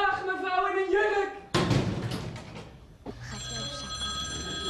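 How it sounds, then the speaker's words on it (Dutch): A telephone bell rings in a children's program, loud repeated bright ringing bursts at the start, followed by a thud and a second stretch of steady electronic ringing. "Oh, telefoon, je rinkelt alweer."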